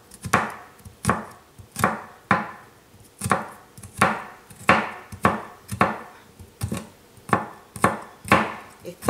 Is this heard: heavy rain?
no